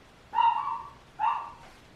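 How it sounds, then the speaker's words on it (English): Dog barking indoors: two short, close, tonal barks or yelps about a second apart, fairly quiet and alone. "Between the meowing and the barking, it's too much."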